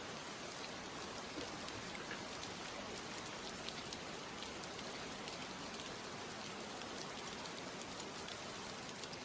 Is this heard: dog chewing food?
no